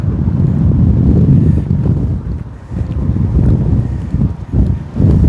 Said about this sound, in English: There is a windmill barrelling around, showing how windy it is.